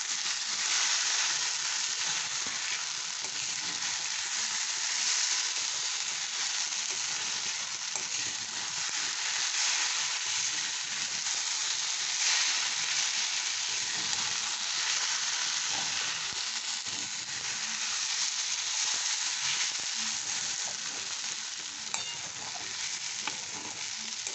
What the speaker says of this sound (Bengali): এটা হয়ে গেছে ভাজা ভাজা